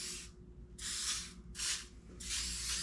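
Aerosol can spraying protective coating across a cast iron table saw top, in four steady hissing bursts of about half a second to a second each, separated by brief pauses, close up with no talk.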